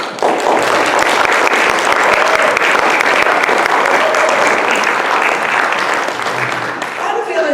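An audience at an anniversary celebration in Monterey County, California, gives sustained, dense applause welcoming a speaker to the stage, steady and loud throughout before tapering slightly at the end.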